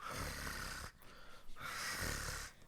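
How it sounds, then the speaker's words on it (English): Soft rhythmic purring of a cat in a lap close by, two long rumbling breaths separated by brief pauses, quiet and without any talking. "there's a cat purring in my lap"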